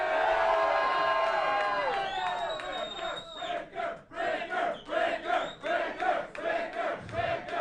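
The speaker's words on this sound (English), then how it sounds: "I hear a whole lot of people out here cheering for Sean Ricker right about now" A large crowd cheers and shouts loudly at a Hollywood championship wrestling show, with rising whoops, sustained roaring and rhythmic waves of chanting.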